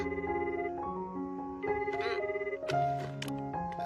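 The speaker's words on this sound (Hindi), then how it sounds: "तुम जल्दी फोन क्यों नहीं उठाते फुशिगुरो?" A telephone rings in an anime episode, a bright melodic ringtone playing its repeating tones clearly for several seconds with no talk over it.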